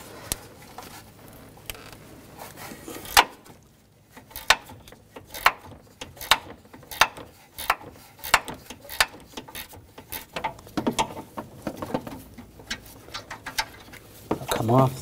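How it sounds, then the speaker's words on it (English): A 10mm ratchet wrench works on bolts under the hood of a Honda HR-V during an A/C condenser replacement, giving sharp, irregular clicks and metallic ticks spread across the span, some bunched in quick bursts. "I'm going to use a 10mm ratchet wrench."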